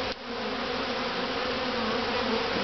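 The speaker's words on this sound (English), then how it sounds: "So what he's doing is he's just brushing the bees off, nice and gentle." Honey bees buzz steadily as they are gently brushed off the comb of a top bar hive during a honey harvest, a close, continuous droning hum with no talking.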